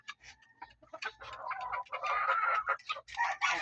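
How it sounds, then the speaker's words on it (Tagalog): Pet chickens clucking while being fed, close-up bursts of busy clucking and chattering from several birds, growing denser and louder toward the end with small ticking sounds from pecking. "Ayan po yung pinapakain ko sa aking mga alagang mga manok."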